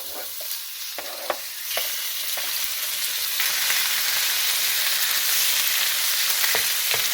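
Whisked eggs hit hot oil in a pan for a pork, mushroom and cabbage stir fry, with a loud, steady sizzle that swells and holds, broken by a few clinks of a utensil against the pan.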